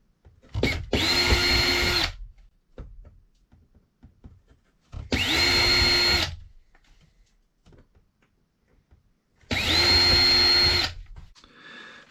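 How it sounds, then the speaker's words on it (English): A power drill bores three pilot holes into a wooden van cupboard door for barn door hinges, each a loud whirring burst of about a second separated by quiet pauses with faint handling clicks. "Then I drill a pilot hole into each of those little drill holes."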